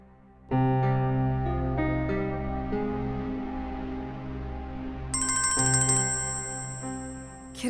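A mobile phone ringtone for an incoming call from Kiran starts abruptly and plays a steady, melodic electronic tune near and fairly loud, with a brighter high tone joining partway through, and no talking over it.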